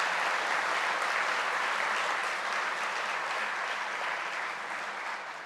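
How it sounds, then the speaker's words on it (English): Sustained audience applause for student helpers at an alumni awards event, a dense, even roar of many hands clapping that fades slightly toward the end, with no voices over it. "Please give a round of applause to all of our students who are helping today."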